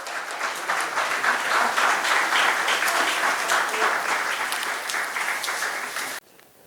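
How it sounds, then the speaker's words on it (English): Audience applause at a corporate social responsibility conclave, a steady, even round of clapping from many hands lasting about six seconds before cutting off abruptly into quiet. "A round of applause."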